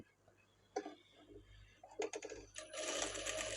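A sewing machine stitching a blouse: brief bursts of mechanical whirring and clicking, then a sustained steady run of rapid stitching near the end, close over a low hum.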